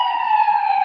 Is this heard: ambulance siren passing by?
yes